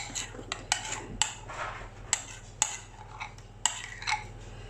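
A utensil stirs cream and gorgonzola in a bowl, giving repeated sharp clinks and scrapes against the dish at an irregular rhythm over a steady low hum.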